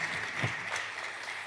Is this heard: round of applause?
yes